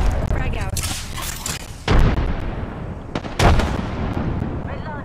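Gunfire and frag grenade blasts in the battle royale game Apex Legends: dense, loud volleys of shots with two heavy booming explosions, continuous and close.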